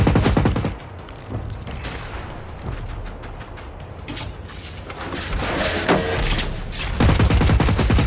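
Gunfire in the video game Generation Zero, a loud blast at the start followed by scattered softer shots and rumbling, then another heavy burst of fire near the end.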